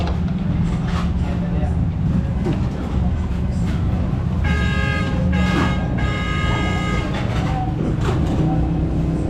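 A ship's horn blares in long harmonic blasts at a marina before departure, sounding repeatedly over a constant rumble of engines and crowd noise, with people talking throughout.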